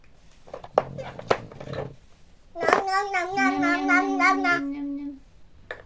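A person speaks briefly, then a cat gives one long, drawn-out meow, loud and close, wavering in pitch.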